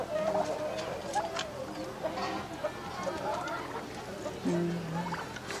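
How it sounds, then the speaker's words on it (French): Turkeys gobble and cluck in a busy poultry area at a youth training center in Mbuji Mayi, with scattered bird calls over background chatter and a voice speaking nearby. "Ce sont des dindons."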